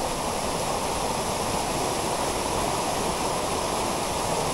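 A big waterfall pours into a deep pool along a stream, a steady, dense roar of rushing water with no letup, close and loud, with no voices.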